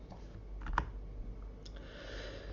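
Login details being typed on a computer keyboard: a few sparse, quiet key clicks, with one sharper tap near the start, over a low background hum and no voices.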